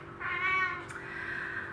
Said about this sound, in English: here is my little cat, very noisy